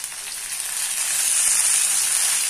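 Tomato pieces dropped into hot oil for mushroom curry, the sizzle swelling louder and holding as a bright, close, continuous hiss.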